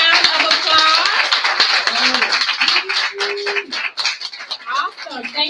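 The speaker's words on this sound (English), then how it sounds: "give them a big round of applause" An indoor audience applauds student council members standing in the room: brisk, close clapping mixed with cheering voices and chatter, dense at first and thinning toward the end.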